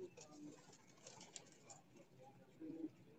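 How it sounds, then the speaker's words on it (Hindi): A teddy pigeon, the oldest main bird of a rooftop loft, coos faintly in low repeated murmurs against soft background noise, with a brief voice nearby. "ये टैडी कबूतर है"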